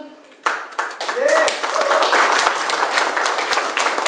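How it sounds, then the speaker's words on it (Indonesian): Audience clapping at a corporate leadership event, breaking out after a quiet start and continuing steadily, with a voice talking over the applause. "Siapa saja kita coba panggil dengan kita sambut dengan tepuk tangan."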